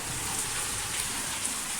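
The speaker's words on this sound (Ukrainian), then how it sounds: "Ось отак з ринви водичка лиється." Rainwater runs steadily from a roof gutter during a ten-minute shower, a dense, even wash of splashing and patter close by with no talking.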